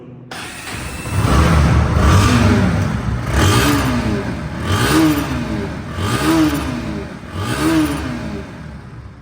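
A Bajaj Pulsar NS motorcycle engine is revved repeatedly nearby, each throttle blip rising and falling in a regular rhythm roughly every second and a half over a steady idle.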